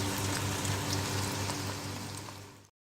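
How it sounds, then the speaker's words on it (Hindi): Onions fry in half a cup of oil for chicken handi, hissing with a dense, even, close-up crackle that fades slightly before stopping abruptly, with no talking. "अब हम उसमें प्याज डालेंगे और इसे फ्राई कर लेंगे।"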